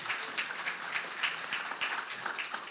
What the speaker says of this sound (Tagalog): Sige nga, pumalakpak nga ng malakas.